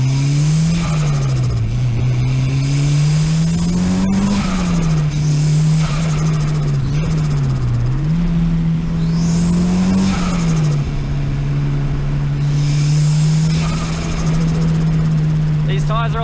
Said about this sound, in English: Alright, so we're going to go on a bit of a spirited drive now.